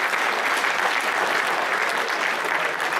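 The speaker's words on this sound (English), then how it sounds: "I think we should give a big round of applause to Gloucester for their performance today" A crowd applauds Gloucester after a rugby match, dense, steady clapping at full volume that carries on without a break for the whole stretch.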